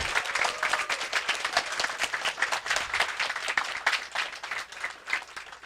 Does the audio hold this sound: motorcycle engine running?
no